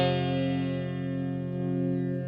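A sustained, buzzy guitar chord through a Mellow Drive overdrive pedal, a Zendrive clone, rings out steadily and loud, fading slightly without any break.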